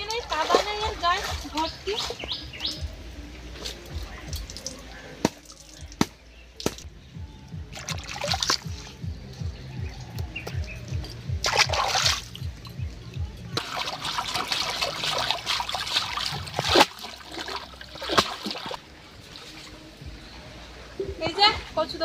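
Water splashing and trickling as freshly harvested taro is washed by hand, in bursts of sloshing that come and go, with people talking throughout.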